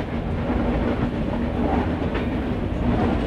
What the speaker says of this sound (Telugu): Chennai local మెము SR